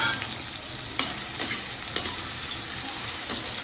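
Papaya and carrot pieces frying in a pan for a navaratna korma, a steady hiss of sizzling oil punctuated by several sharp spatula scrapes and stirs, heard close with no talking.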